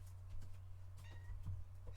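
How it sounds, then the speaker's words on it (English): A house cat meows a few times, faint and close, over a low electrical hum and light background clatter, with no talk. "Oh, good kitty. Move, kitty."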